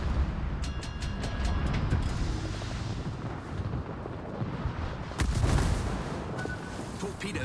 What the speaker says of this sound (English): Something shooting at me out of that smoke.